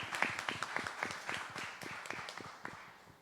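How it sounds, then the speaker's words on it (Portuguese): Church congregation clapping in praise during a Sunday family worship service, a short burst of distinct, fairly quick hand claps from a modest group, moderately close. "Nós podemos louvar ao Senhor com as palmas agora"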